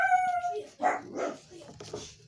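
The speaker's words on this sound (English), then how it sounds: "Let him bark." A dog barks a few times in short yips and whimpering barks, close by and fairly loud, with a brief high whine at the start and no talk over it.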